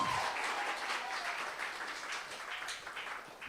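Church congregation applause during a worship service, a moderate wash of many hands clapping that gradually thins and fades, with some scattered voices mixed in.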